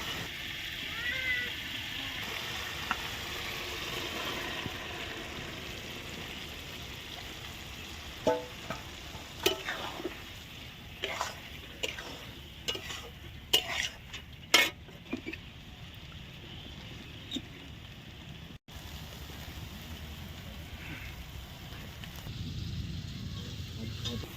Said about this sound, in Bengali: সয়াবিন আর ডিম আমরা ভালো করে ফ্রাই করে নিয়েছি